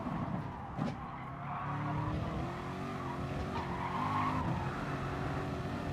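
A race car in Gran Turismo Sport at Monza brakes with tire squeal, a continuous engine drone under sustained skidding and squealing tires, moderately loud and steady.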